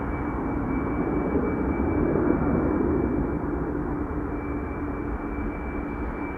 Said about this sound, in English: Swiss Embraer 190 arriving from Zurich.